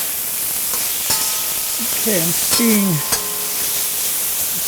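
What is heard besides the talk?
steam hissing in lidded pan cooking green beans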